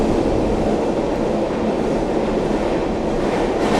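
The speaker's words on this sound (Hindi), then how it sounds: "24 किलोमीटर का डिस्टेंस ट्रैवल करके अपनी गाड़ी पहुंच चुकी है भाई उधमपुर रेलवे स्टेशन" Train pulling into Udhampur railway station after a 24 km run, a steady loud rumble of wheels and carriages that fills the whole stretch without a break.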